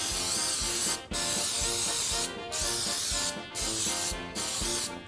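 Short hissing bursts of Baker's Joy baking spray, a flour and oil shortening mix, coat baking pans for cake and bread, five quick sprays at uneven intervals over steady background kitchen sound.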